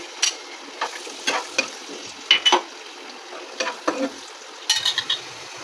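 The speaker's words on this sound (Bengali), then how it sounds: "এই যে আমরা এটাতে এলাচ, দারচিনি, কিশমিশ, কাজু, পেস্তা, কাঠবাদাম, কাজু বাদাম সব একসাথে নিয়েছি, সব একবারে দিয়ে ভেজে নেব।" Cardamom, cinnamon, raisins, cashews, pistachios and almonds fry in ghee for bottle gourd payesh, with irregular scraping spoon strokes over a soft, quiet sizzle.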